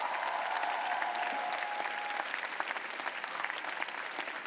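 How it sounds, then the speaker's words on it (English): Commencement ceremony audience applauding a university public safety honor guard, a broad, even roar of many hands clapping throughout, fairly distant, with a faint tone briefly audible beneath. "Give them a round of applause."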